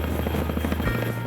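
A CH-47 Chinook helicopter flies close during special forces extraction training at sea, its twin rotors beating in loud, rapid, continuous thumps over a heavy engine roar.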